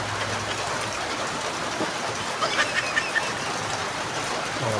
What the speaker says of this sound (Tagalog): Umuulan malakas ang ulan